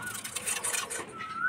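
Pigeons coo faintly in a dim enclosure, a soft, low murmur under brighter chirping and rustling noise.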